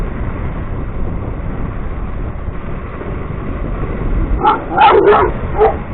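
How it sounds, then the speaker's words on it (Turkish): A dog barks outdoors in a rural village with stacked firewood, several short yips and barks near the end over steady wind or scooter rumble, moderately close. "Bir tane köpek var ama."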